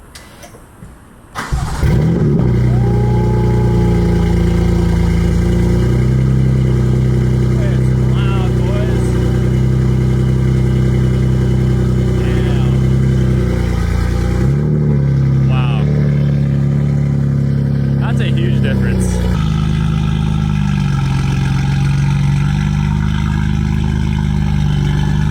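A BMW F80 M3 fitted with an Active Autowerke exhaust starts with a sharp bark, then idles and revs loud and close, its deep drone rising and falling, while people talk over it.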